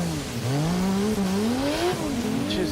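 Dodge Charger engine held on the rev limiter during a race, a loud close roar that rises and warbles as it bounces against the limiter, with tyre noise and no talk.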